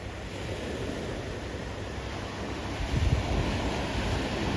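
Surf washing in at the water's edge on Bournemouth beach, a steady broad rush of waves with a slightly louder surge near the end, no voices.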